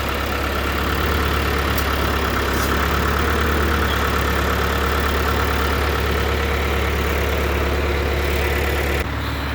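A tractor engine idles steadily with a hooked-up grain mixer, its deep, even rumble loud and close, holding for several seconds before cutting off abruptly near the end.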